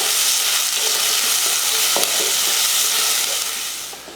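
Small onions fry in hot oil with mustard seeds, fenugreek and curry leaves, giving a steady, close sizzle with light stirring scrapes. It runs throughout and eases off near the end.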